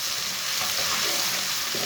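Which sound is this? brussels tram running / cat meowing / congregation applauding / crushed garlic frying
crushed garlic frying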